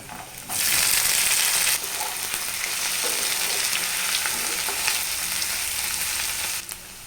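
Boiled potatoes and chopped onion fry with soybean vegetables in a pan, opening with a loud burst of sizzle that settles into a steady hiss broken by a few stirring scrapes, close up with no talk.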